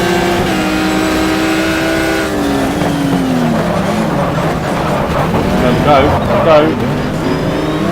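A Ferrari race car engine in the GTR2 racing sim, revving and shifting with rising and falling whines as it accelerates past rivals, loud and close, with a brief spoken word over it.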